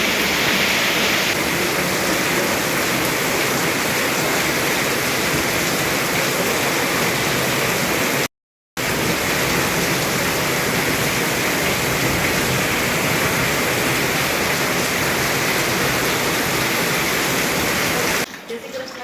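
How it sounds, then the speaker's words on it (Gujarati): Heavy rain pours down steadily during a Navratri night, a dense, loud, continuous roar of downpour with no break except a brief dropout midway. "વરસાદ અત્યારે ધોધમાર ચાલુ થઈ ગયો છે"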